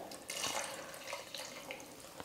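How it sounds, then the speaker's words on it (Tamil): Water rinsed from a mixer jar is poured into a simmering kurma curry made with coconut and peanuts, giving a steady splashing trickle that runs close by for a couple of seconds with no talk. "அந்த தண்ணி சேர்த்துக்கிறேன்."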